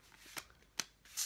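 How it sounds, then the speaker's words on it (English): A standard Bicycle playing card deck is shuffled up close, giving three quick crisp riffling bursts in little over a second, with no voices. "So, these shuffle pretty nicely."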